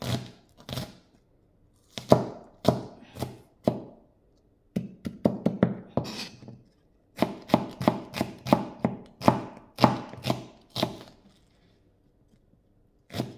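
A knife chops an onion into small pieces on a board, quick bursts of crisp taps in several runs separated by short pauses, close and fairly clear with no talking.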